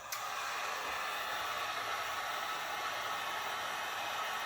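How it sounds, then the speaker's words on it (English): Heat gun blowing steadily while melting the ends of elastic straps for foam armor, a constant airy whoosh at moderate level throughout, with no voices. "This can be done easily with a heat gun."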